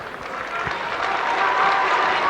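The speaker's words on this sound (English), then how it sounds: "Kenneth Rooney getting a great reception from the crowd" A football crowd at a 1997 FAI Youth Cup Final in Drogheda gives a player sustained applause, a steady dense wash of clapping that holds loud and even throughout.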